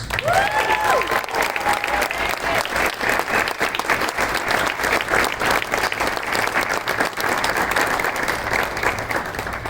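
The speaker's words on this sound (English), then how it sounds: "Let's give a big round of applause to our officers." Sustained loud applause from a large crowd at a nursing pinning ceremony, dense clapping that continues throughout, with a brief whistle near the start.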